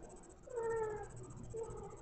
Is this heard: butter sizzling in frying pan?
no